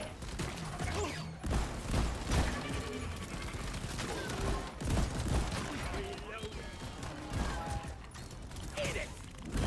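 A sentry gun in Deep Rock Galactic fires rapid bursts amid chaotic combat noise, fairly quiet overall, with clattering mechanical shots and scattered impacts running throughout.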